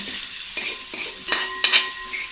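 Prawn masala with curry leaves and coriander being stirred in a heavy-bottomed uruli, close sizzling with a few sharp scraping clicks of the spoon against the pan, no voices.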